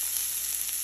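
Salmon fillet frying in a pan with two chilies and a little onion, giving a steady, close, even sizzle with a bright hiss and no pauses.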